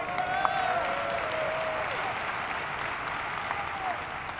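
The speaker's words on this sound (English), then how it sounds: "you can go ahead and clap for them." A convention crowd applauds steadily throughout, a dense wash of clapping with a few faint cheers mixed in.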